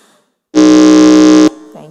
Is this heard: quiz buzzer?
yes